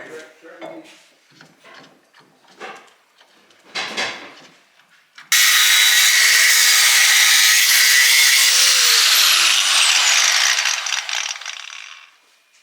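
A power tool cuts new parts to fit a Ford Escort Mk2 rally car under restoration. A few seconds of clunks and talk are followed by a loud, continuous, harsh grinding whine that runs for about six seconds and then stops.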